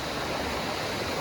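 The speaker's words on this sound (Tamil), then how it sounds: "பார்த்தீங்கன்னா தண்ணி சரியான வேகமாக அடித்து கொண்டிருக்குது" Fast-flowing river water at Kathirkamam, Sri Lanka, rushing in a steady, loud, broadband roar that stays constant throughout, close by with no voices.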